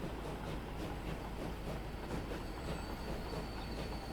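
A train runs along the track in Transport Fever 2 with a continuous, even rolling rumble and faint rhythmic wheel clatter. A thin, high wheel squeal rises briefly near the end, all at a moderate, distant level.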